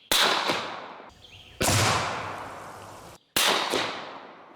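Three loud, sharp gunshots ring out about a second and a half apart, fired at a target from 100 yards, each blast trailing off into a long echoing decay.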